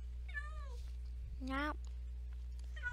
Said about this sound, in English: I found my missing cat.